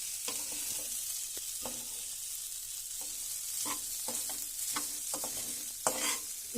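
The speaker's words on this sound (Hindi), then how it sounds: "इस तरह से इसको अच्छी तरह से फ्राई करते रहेंगे।" Dry daliya (broken wheat) being fried and stirred in a kadhai over a low flame: a steady soft sizzle broken by repeated scraping strokes of the spoon against the pan, close up and with no voices.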